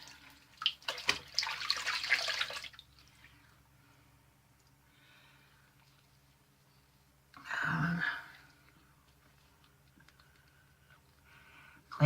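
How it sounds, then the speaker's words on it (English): Water runs and splashes in a bathroom sink after a shave, in two separate bursts, one early and one later, with quiet gaps and faint clicks between them. "Get that water out of the sink."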